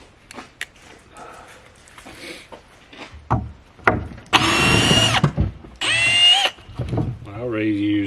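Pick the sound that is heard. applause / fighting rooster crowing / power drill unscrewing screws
power drill unscrewing screws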